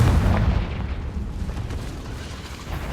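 A Confringo fire spell explodes in the Hogwarts Legacy video game: a loud, deep boom with a rumbling tail that slowly fades over a few seconds. No voices.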